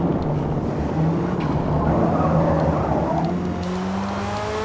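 An expensive car in the Forza Motorsport racing game roars along a mountain course, its engine droning loud and continuous as it holds high revs, then shifts pitch upward near the end.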